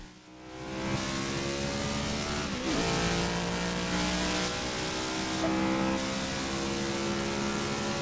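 Race car engines in the NASCAR Rivals video game drone loudly and continuously, revving with shifting harmonic tones and a brief pass-by sweep.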